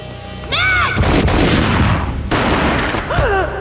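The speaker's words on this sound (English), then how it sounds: "A gunshot boomed and she fell down in slow motion" Loud gunfire bursts from the video game Max Payne, a sustained fusillade of overlapping shots with booming impacts and short slow-motion whooshes between them, close and heavy throughout.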